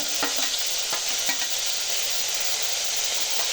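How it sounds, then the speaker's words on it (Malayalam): Ginger garlic paste sizzles and fries in a hot pan while being stirred, the start of a beef curry; a steady, close hiss runs throughout with a few light scraping stirs and no talking. "ഞങ്ങൾ അതിലേക്ക് ഇഞ്ചി വെളുത്തുള്ളി ഇടാൻ പോവാം കേട്ടോ"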